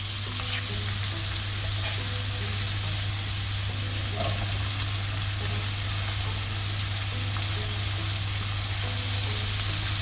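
Garlic and chopped onions sauteing in a pan, a steady soft sizzle and crackle with occasional stirring scrapes, continuous and even at moderate level without speech.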